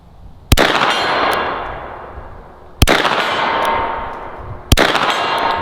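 Three sharp metallic clangs of bullets from a Ruger carbine hitting a steel buffalo target ring out a couple of seconds apart, each leaving a long shimmering ring that slowly fades, loud and nearby.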